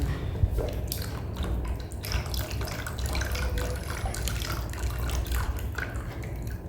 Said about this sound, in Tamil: இந்த ஆயில் கூட ஐ சொல்யூஷனை மிக்ஸ் பண்ணிக்கலாம்